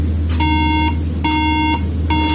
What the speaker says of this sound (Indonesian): ini BIP 3 kali yang terjadi pada MacBook Air. Itu MacBook Air 11 in tahun 2012.